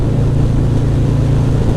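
A motorcycle running an S&S 475c cam with Vance & Hines Power Duals exhausts and Tab Performance louvered baffles cruises in fourth gear at 3,400 RPM and 70 mph, a steady, loud, low engine drone with wind rush and no speech.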